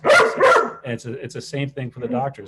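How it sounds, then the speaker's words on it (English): Dog barking in the background of a remote professional interview, a couple of sharp loud barks at the start followed by someone talking steadily. "Sorry for the dog."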